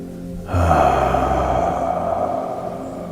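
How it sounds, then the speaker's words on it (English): A single deep breath, a long drawn inhale and slow exhale during a guided breathing exercise, close and steady with a soft broadband rush lasting about three seconds, no talking. "Feel the breath all the way in and exhale"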